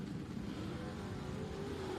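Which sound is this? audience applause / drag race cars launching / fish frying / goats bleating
drag race cars launching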